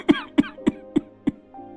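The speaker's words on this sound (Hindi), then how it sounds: "अरे बेटा, ये खांसी बढ़ती जा रही है।" Five evenly spaced harsh coughs from a cartoon character sound in a steady rhythm, each a short sharp burst, followed by a faint voiced tone.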